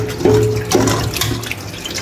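Tap water runs over cow foot being scraped and rinsed in a kitchen sink, a steady splashing stream with a few clattering knocks near the start.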